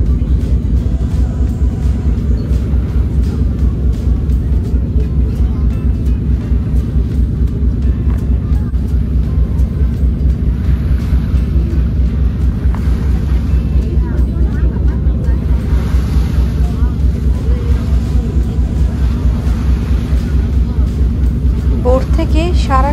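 A boat ride at night across the Hong Kong harbour, with a steady loud engine rumble and churning drone throughout while people talk over it.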